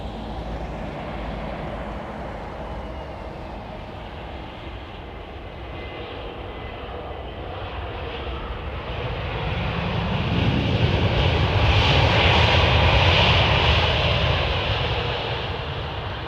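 An airliner flying base leg near London Heathrow Airport: a continuous jet engine rumble that swells louder as the aircraft passes closer, then eases slightly, with no voices.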